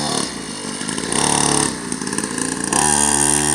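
A small black-and-white DRX 50 two-stroke dirt bike engine runs nearby with a buzzy, raspy tone. Its pitch rises and falls with the throttle, and no voices are heard.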